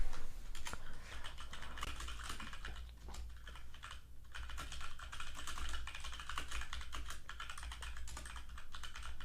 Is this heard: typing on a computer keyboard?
yes